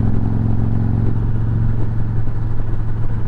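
A Victory Cross Country motorcycle cruises at 60 mph, its engine a steady, continuous low rumble with wind and road noise throughout, no speech.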